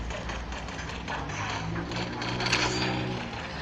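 A mechanical loot box opening in the mobile video game Nova whirs and clicks with ratchet-like ticking, moderately loud and continuous for a few seconds without speech.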